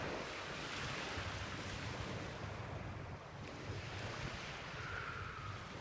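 Ocean waves wash onto the shore in a soft, continuous rush, with wind noise blowing across the microphone and no voices.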